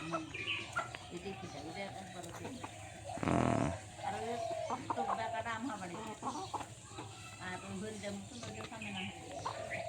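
Laying hens cluck and squawk close by in bursts, with a brief loud rushing noise in the middle, while people talk throughout.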